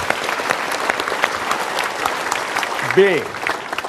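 An audience claps in a group, the sharp hand strikes showing through steadily while a speaker's voice rises over the applause near the end.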